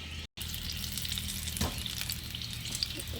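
Eggplant bajji batter sizzles in hot oil, a soft continuous frying hiss with faint crackles, heard close but quiet, with one brief dropout near the start.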